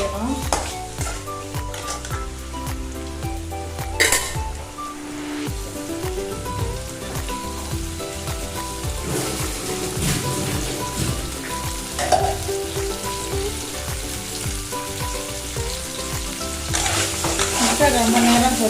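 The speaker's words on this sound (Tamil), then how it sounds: "முட்டை இப்படி தான் பொரியணும்" Four eggs fry with chili paste in a hot pan, a loud steady sizzle with repeated scraping and stirring strokes, close up and nearly free of talk.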